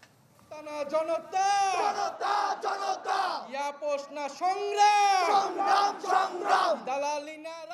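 A large crowd chants political slogans in unison at the launch rally of a new Bangladeshi political party, loud and rhythmic with voices rising and falling in repeated call-like phrases, filling the whole stretch.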